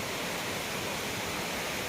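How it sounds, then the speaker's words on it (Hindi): A waterfall pours through a monsoon-soaked forest near Badhkhaman, giving off a steady, broadband rush of falling water that holds evenly throughout with no voices. "ये पानी के जो झरना का देखिए वहाँ से थोड़ा थोड़ा दिख रहा होगा अंदर में आपको"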